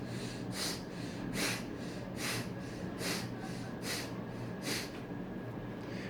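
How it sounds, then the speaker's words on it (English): Rapid rhythmic breath-of-fire exercise breathing, a series of about eight sharp forceful nasal exhales spaced roughly evenly, close and fairly loud over a steady background hum. "Breath of fire."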